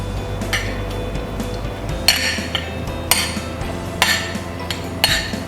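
Utensil clinks and scrapes against a pan as pad see ew is mixed with sugar and chili flakes, several distinct metallic taps spaced about a second apart over a low steady background hum.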